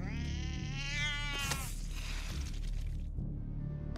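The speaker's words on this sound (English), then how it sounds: "Cat!" A cartoon cat in South Park: The Fractured But Whole lets out a loud, drawn-out meow up close, then a brief crash and low game background rumble carry on.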